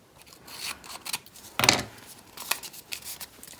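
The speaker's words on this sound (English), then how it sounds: "Just trim that off." Scissors trim a scrap of paper for a pop-up card, a few close, crisp snips and rustles with one louder cut in the middle.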